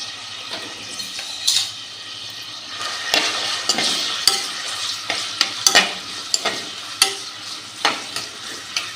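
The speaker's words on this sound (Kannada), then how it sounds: "ಕಟ್ ಮಾಡಿ ಈರುಳ್ಳಿ ಹಾಕ್ತಾ ಇದ್ದೇನೆ. ಇದನ್ನು ಫ್ರೈ ಮಾಡಬೇಕು." Chopped onions sizzle and fry in a pan for rice bath, with steady broadband frying hiss and repeated clinks and scrapes of a stirring spoon at an irregular rhythm, close and fairly loud with no talking.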